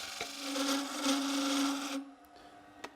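A wooden spindle spinning on a lathe as a turning tool tapers its ends, giving a steady scraping, rasping cut with a low hum for about two seconds, then the cut stops and leaves a quieter whir with one brief click.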